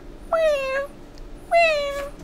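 A human voice imitates a cat, giving two drawn-out meows about a second apart, each starting sharply and trailing off, fairly close and clear.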